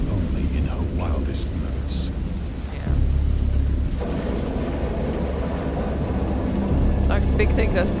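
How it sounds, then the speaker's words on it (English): Heavy rain pours steadily in the horror game Dagon while deep thunder rumbles and rolls beneath it. Distant, muffled booms swell partway through, and a few brief higher tones sound near the end. "I heard bells of thunder and other tones which nature utters only in her wildest moods"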